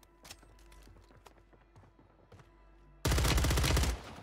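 Gunfire in Warzone 3 on Rebirth Island: faint footsteps and light taps give way to a sudden loud, close burst of shots lasting about a second.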